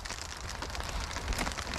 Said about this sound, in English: You can probably hear it. It's pouring rain right now.